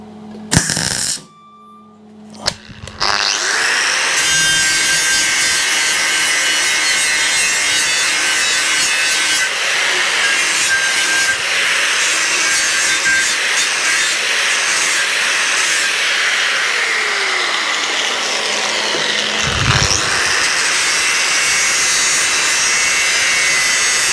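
A power drill cleans out a weld pinhole on a Suzuki GS custom motorcycle frame, running loud and steady for about twenty seconds after a few short starts, with a brief dip near the end and no talking.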